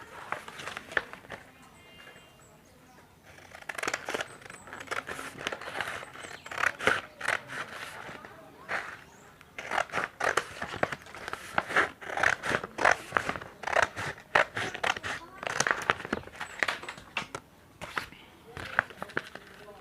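Scissors cut paper for motor coil insulation on a tullu pump motor, giving repeated close snips and crisp scraping rustles in irregular bursts. They run steadily for about twenty seconds while someone talks over them.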